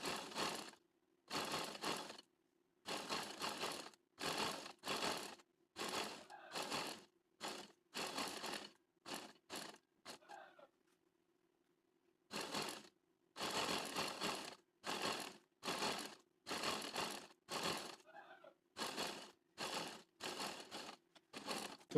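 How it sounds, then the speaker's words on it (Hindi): Electric sewing machine stitching gum lace with a strip onto a garment hem, running in a long series of short bursts with brief pauses between them. The hum is steady and close, and nobody speaks. "मैं फ़िलहाल इसको सिलाई लगा देता हूँ।"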